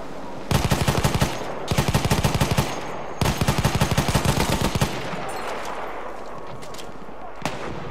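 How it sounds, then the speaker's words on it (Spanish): A machine gun fires in Battlefield 1 on the Monte Grappa map: three long, loud, rapid bursts, then quiet, with a single shot near the end. "¡Una ametralladora! ¡Ametralladora detectada!"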